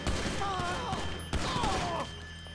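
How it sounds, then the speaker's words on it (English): Gunfire in the video game GTA 5 during a shootout with FBI agents: dense fusillade crackling throughout, with a sharp burst near the middle and a dip toward the end. "I shot him, I think."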